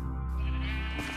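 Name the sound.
sheep bleating in video game Minecraft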